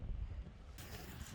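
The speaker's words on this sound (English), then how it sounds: "the wind is crazy" Strong wind buffets the microphone on a New England beach during a shell hunt, a low rumbling roar with gusty pulses and a hissing surge near the end, close and alone without talk.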